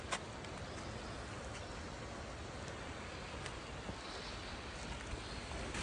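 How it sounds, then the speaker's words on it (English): Steady broadband rush of a stream flowing over rocks, continuous and fairly close, with faint splashes and wind-like noise; no voices. "This is the sound of water."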